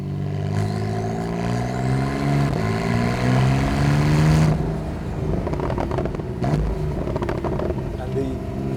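Porsche 911 991.2 Carrera 4 GTS with ceramic brakes driving on a wet road in the rain, its engine note steady and rising through the gears with a shift near the midpoint, loud and close under continuous tyre and road noise.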